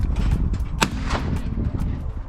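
A shotgun fires once at a clay target on an outdoor shooting range in North London, a sharp report heard through constant wind and background noise.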